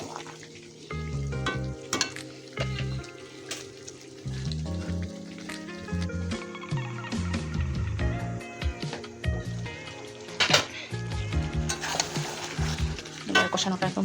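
Goat mutton stir-fried in oil in a pan for a red, spicy Bengali mutton curry, sizzling steadily while a spoon scrapes and stirs in repeated loud clanking bursts.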